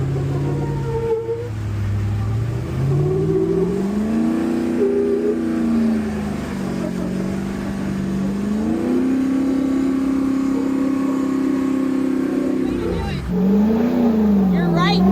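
A Jeep's engine revs and accelerates on wet ground while its tires scrub, a loud, close, rising and falling mechanical drone with swelling pitch sweeps over about fifteen seconds, and people talk in the cab.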